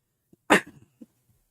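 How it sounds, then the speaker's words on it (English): A single sharp, close cough bursts out, followed by a few soft breathy catches and a faint throat sound in an otherwise quiet room. "Can't shake this cough."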